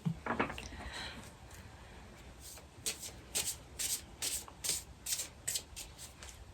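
Hands shuffle a Zebra deck of playing cards in a series of quick, crisp riffles, each a short burst of fluttering card edges, close and fairly quiet, repeating rhythmically after some softer rubbing and handling.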